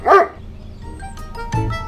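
A dog in the Roblox Brookhaven game gives a loud, sharp bark at the start, followed by quieter game sounds and a second, lower bark near the end.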